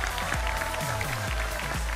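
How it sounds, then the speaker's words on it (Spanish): Studio audience applauding on the Argentine TV quiz show Los 8 escalones, a steady dense wash of clapping for two seconds, with music or tonal sweeps running underneath. "el aplauso para Margarita Stolbizer"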